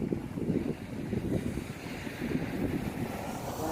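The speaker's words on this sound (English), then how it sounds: "Sheesh, the wind's trying to take it that way on me." Strong wind buffeting a microphone during an outdoor FPV drone flight with a BetaFPV 85 quadcopter, a continuous low rumbling roar that stays steady and loud throughout, with no voices.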